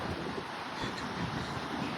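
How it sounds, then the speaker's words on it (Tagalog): Rough ocean surf in Florida crashing continuously with heavy wind buffeting the microphone, a dense steady roar with no clear breaks between waves. "Ang ilang dagat maalon masyado."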